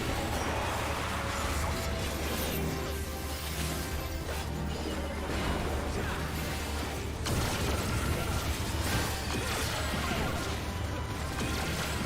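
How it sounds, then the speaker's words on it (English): A tank character in a video game smashing away, a continuous loud barrage of heavy crashes, clanks and bursts with mechanical rattling throughout and a sharp impact partway through. "Tank smashing away."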